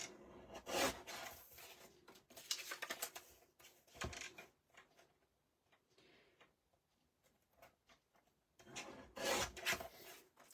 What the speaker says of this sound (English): So I'll get my trimmer out and just trim off where you've marked the corners.